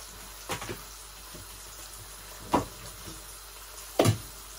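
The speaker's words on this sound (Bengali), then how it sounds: "তেল আর রসুনের পেস্ট দিলাম এটার মধ্যে" Garlic paste dropped into hot oil, giving a low steady sizzle under three brief louder splashy bursts spaced a couple of seconds apart, close by and with no talking.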